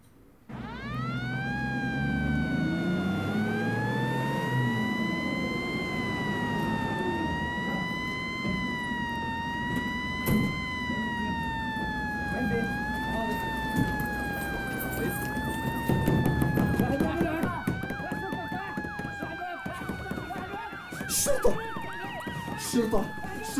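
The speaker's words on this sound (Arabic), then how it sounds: "هذا صوت سيارات الشرطة" A police siren wails loudly and continuously, rising and falling in a steady cycle, with traffic rumble and occasional voices underneath.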